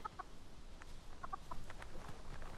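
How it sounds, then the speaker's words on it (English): Chickens cluck in short bursts inside the Dragon's Dogma 2 video game, fairly faint and with no talk over them. "I got a chicken. Can I throw this chicken?"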